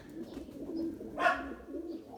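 A lone pigeon gives a single soft coo amid quiet background hum, faint and brief, with no one talking.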